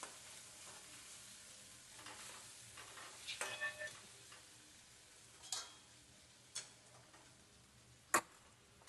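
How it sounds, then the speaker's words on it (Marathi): Spoon stirring a potato curry with spices, onion, tomato and a little gram flour in a pan, with a faint low sizzle and several sharp scraping clicks of the spoon against the pan. "आता मिक्स करून घेते।"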